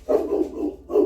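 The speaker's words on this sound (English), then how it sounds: "sorry about the dogs barking." Dogs barking nearby in a quick run of several overlapping woofs, then a short pause before another bark.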